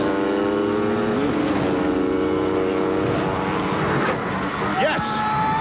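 Robbie Knievel's motorcycle on its run-up for the Grand Canyon jump, the engine rising through the gears with climbing pitch sweeps near the end, heard under a broadcast commentator's voice and crowd noise.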